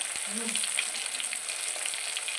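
Steady, bright sizzling of spices in hot oil, a continuous crackling hiss with no voices.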